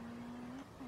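A car drifting in the video game SLRR: a steady engine drone holds a constant pitch, cuts out briefly, then returns slightly higher and quickly falls away, all quiet and brief.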